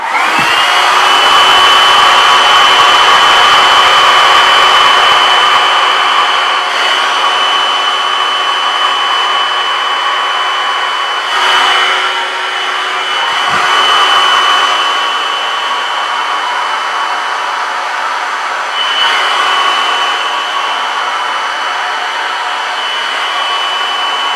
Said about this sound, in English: You can hit it with the blow dryer and that'll soften it back up